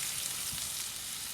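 Blanched fingerling potatoes frying in butter in a pan, giving a steady, close, hissing sizzle with faint crackle throughout and no talk.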